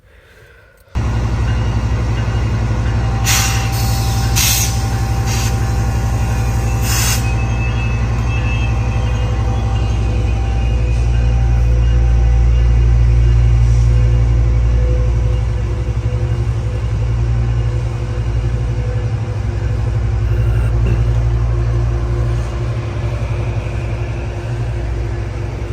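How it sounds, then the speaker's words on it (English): A train at Fullerton station getting ready to leave the platform, with a loud, steady low rumble of idling and moving locomotive and cars throughout, and a few brief higher metallic tones early on. "here is the same train about to depart"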